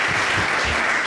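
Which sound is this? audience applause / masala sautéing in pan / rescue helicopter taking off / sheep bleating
audience applause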